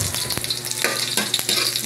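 Garlic and onion sizzle and fry in a pan for bopis, a loud close crackle with scraping stirring strokes throughout.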